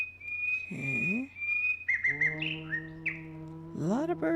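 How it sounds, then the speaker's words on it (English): Birds chirp and call in the video game Darkfall 2: Lights Out, with short clustered tweets and longer warbling, whistle-like notes at moderate volume over a quiet outdoor background. "A lot of bird sound."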